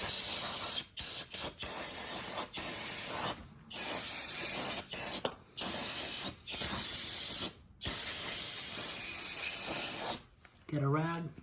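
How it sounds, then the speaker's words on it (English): Brake cleaner sprayed onto a 2024 Honda Grom motorcycle during an oil change: a series of close, loud aerosol hisses in bursts of varying length separated by short pauses, ending with a brief voice. "We're gonna go ahead and brake clean this."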